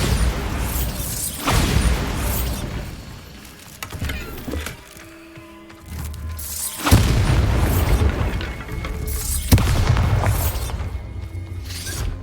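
In the game Hogwarts Legacy, Bombarda spells explode as repeated loud booms with crashing, splintering debris, separated by quieter pauses and a brief magical chime.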